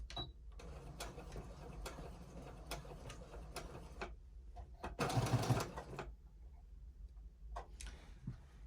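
A sewing machine stitches a fabric mask in mechanical bursts of ticking and whirring, with a louder run in the middle, up close and without talk.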